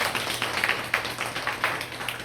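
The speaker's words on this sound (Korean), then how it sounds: "박수 좀 쳐주세요" Scattered hand clapping from a church congregation at a sermon, a modest round of uneven claps with short bursts, fairly close and moderately loud, with no talking over it.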